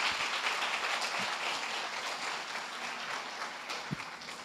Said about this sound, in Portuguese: Dá uma salva de palmas, Senhor Jesus.